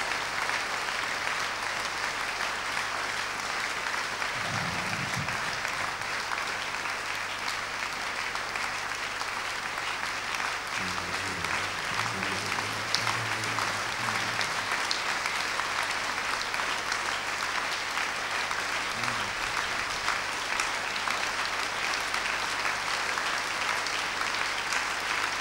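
A church congregation in Kpalimé, Togo applauds to welcome the pastor, with steady, dense clapping filling the room throughout and a few faint voices rising briefly within it.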